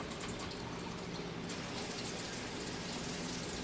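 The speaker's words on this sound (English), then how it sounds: "measure my water out" Cold filtered water gushes steadily into a measuring cup in a kitchen, a continuous close splashing rush that runs without pause and without any talk.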